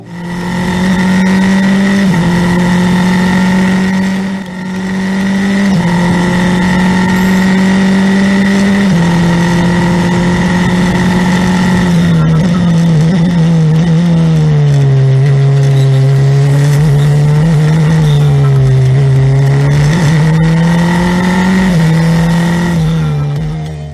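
A Formula 4 race car engine at India's first night street race in Chennai, heard onboard as a loud, unbroken high-revving drone with brief dips at gear changes and a pitch that sags and climbs again.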